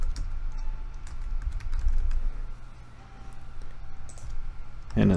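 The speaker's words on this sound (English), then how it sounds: "And this time we'll type in monthly access." Typing on a computer keyboard while building a WordPress course site, a run of light, quick keystroke clicks at close range that ends with a louder click.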